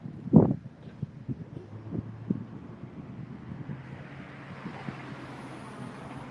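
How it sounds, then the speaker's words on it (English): Strong gusty wind rushes through trees outdoors at a camp, a steady broad roar swelling and buffeting the microphone, with a thump near the start. "the wind is pretty thick. It's picking up pretty quick now. You got the trees out there blowing"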